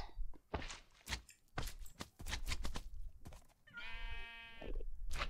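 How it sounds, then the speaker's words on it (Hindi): A sheep bleats once, a short wavering cry near the end, in the Minecraft video game, following a run of quick clicks and thumps; no talk. "रेयर शीप रखो ना एकदम पिंक शीप देख रहे हो"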